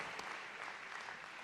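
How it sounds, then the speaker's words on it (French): Audience clapping for a municipal youth council at a New Year's greetings ceremony, a dense, steady burst of many hands throughout, loud and close, with no voices over it. "je vous demande de les applaudir bien fort, le CMJ"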